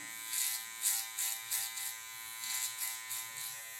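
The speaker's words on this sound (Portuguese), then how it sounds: "Primeiramente, eu vou começar fazendo com o auxílio da maquininha" An electric hair clipper buzzes close up while trimming afro hair into a mohawk, its loud steady hum rising and falling in repeated short passes as it moves through the hair.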